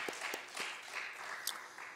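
A church congregation in Korea claps during a worship service, a scattered, modest round of hand claps at moderate distance with no speech over it.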